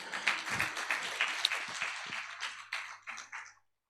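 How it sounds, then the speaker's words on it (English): Symposium attendees applaud the team with a dense, moderately quiet patter of clapping that gradually thins out over a few seconds and ends abruptly in silence. "another loud applause for the team"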